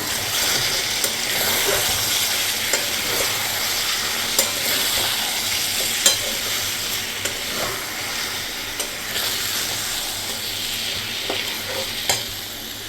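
Chicken cooking with poppy seed paste, frying and being stirred in a pan for a spicy chicken kosha: a steady close sizzle throughout with scattered scraping clicks of a spoon against the pan.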